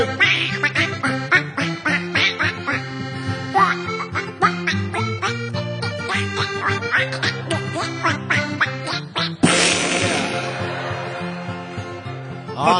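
Rapid, repeated duck quacks run through a loud, busy country-style music track about a duck hunt, with a burst of broad noise near the end.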